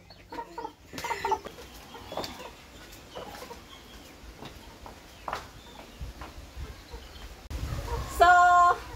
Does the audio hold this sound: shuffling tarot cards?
no